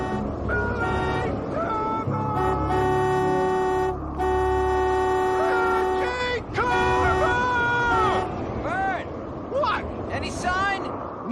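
A car horn honks repeatedly during a storm, long loud blasts with short breaks, under shouting voices and general commotion.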